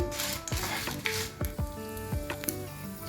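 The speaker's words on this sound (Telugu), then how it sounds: "ఇప్పుడు మనం ఎండుమిరపకాయలు వేసుకొని మరి మాడిపోకుండా ఇలా స్లోగా వేపుకుంటూ ఉండాలి" Dried red chillies fry slowly in hot oil for a spinach chutney, a close, continuous sizzle broken by repeated stirring scrapes and squishy pops in an irregular rhythm.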